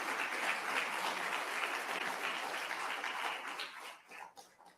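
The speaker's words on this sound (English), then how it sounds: "Let's give him a round of applause for acknowledgement" An audience at a human rights summit opening session applauds steadily, the clapping dense and even before tapering off into a few scattered final claps.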